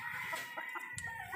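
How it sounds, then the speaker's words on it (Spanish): Hens on a farm cluck in short, close bursts, with a few overlapping calls over a brief stretch. "Estas son las gallinas que se le están poniendo a ese padrote"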